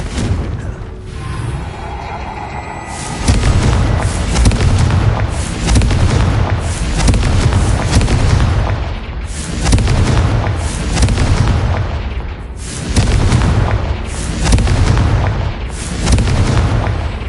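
Repeated blasting-curse explosions from Hogwarts Legacy boom out in heavy bursts, each loud detonation rolling into the next in a steady rhythm after a quieter opening.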